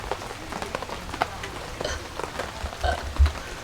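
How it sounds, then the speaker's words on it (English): Rain falls at a campsite: scattered close drips and patters tap on a surface over a soft steady wash, with a couple of low thumps near the end. "welcome to the fun of camping in the rain"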